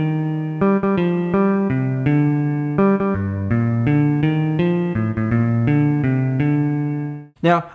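An inverted Happy Birthday melody is played note by note on a clean electric guitar, a steady run of clear plucked tones at an even pace, ending with a short scraping squeal.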